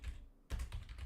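Someone types on a computer keyboard, a soft short burst of key clicks after a brief pause, close and quiet with no talking.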